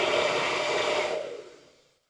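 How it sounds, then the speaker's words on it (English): Hair dryer blowing on liquid latex, a steady close, loud airy whir that winds down and fades out after about a second and a half. "using a hairdryer"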